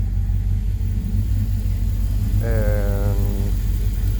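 A 2001 Dodge Durango RT V8 with a small cam idles in a deep, steady, loud rumble throughout, with a brief tonal voice-like sound rising over it partway through.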